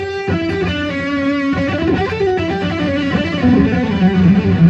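G&L Legacy HSS electric guitar with a bright, twangy, slightly quacky single-coil tone, played alone as a steady stream of chords and licks.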